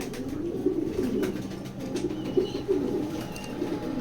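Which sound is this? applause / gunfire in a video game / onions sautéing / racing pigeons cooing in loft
racing pigeons cooing in loft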